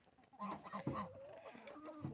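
Chickens cluck softly nearby, a few short murmuring calls overlapping in a quiet moment.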